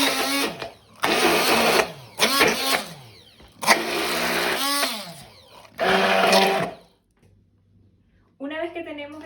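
A blender grinds a sweet potato and soybean truffle mixture in loud bursts of whirring, starting and stopping several times with short pauses between runs, a voice speaking briefly at the end.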